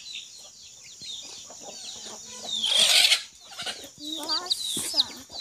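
Chicks and hens on a grandmother's farm cluck and cheep close by in a rapid, uneven chatter, a louder squawking burst rising midway.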